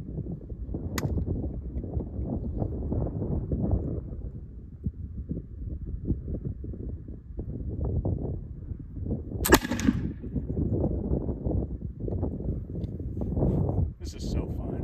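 A Pedersoli Brown Bess flintlock musket fires at a 50-yard range: one sharp crack rings out partway through, with a smaller snap earlier, while someone talks steadily before and after.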